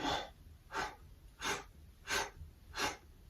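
Five slow breaths during a Pilates exercise, each a soft close airy rush spaced evenly about two-thirds of a second apart, with no talking over them.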